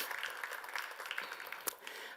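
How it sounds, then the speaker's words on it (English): A forum audience applauds, soft scattered clapping heard from a distance in a large hall, a continuous patter with one sharper clap near the end. "An applause."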